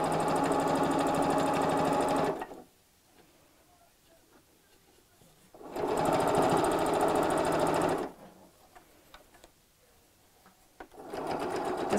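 A sewing machine stitches a pinned seam on a chenille clutch bag in three steady motor runs broken by quiet pauses, close and clear.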